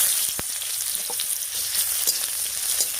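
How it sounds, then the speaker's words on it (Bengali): Chopped onion dropped into hot oil with whole cumin and a dried chilli, sizzling steadily up close with a few sharp stirring knocks against the pan. "এবার এর মধ্যে দিয়ে দিচ্ছি পেঁয়াজ কুচি"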